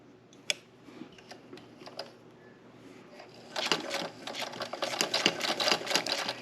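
A sewing machine works a tiny zigzag stitch on an appliqué, first with sparse, slow ticks, then speeding into a dense run of rapid mechanical clatter, heard up close.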